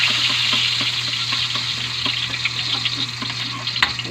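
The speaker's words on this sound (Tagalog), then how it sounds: "Naglagay na tayo ng bawang. Kasi mainit yung oil." Garlic frying in hot oil, a loud, busy sizzle with a low steady hum beneath and stirring scrapes and pops scattered across it, a slightly sharper clatter near the end, no speech.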